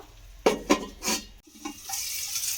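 A pot being covered with a lid while spices and tomato fry for a lentil and egg dish, with a few metallic clanks and a scrape over a soft sizzle.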